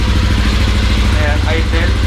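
A Yamaha Aerox scooter fitted with a JVT Pipe V3 exhaust idles steadily, a loud close low-pitched throb with an even pulsing rhythm.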